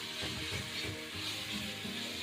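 Tomatoes frying in a hot pan while cooking chicken curry, giving a steady close sizzle with soft stirring scrapes throughout and no talking.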